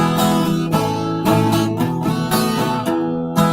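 A strummed guitar plays a repeating blues chord progression in E, steady and close, with a bass note anchoring each change and no voices.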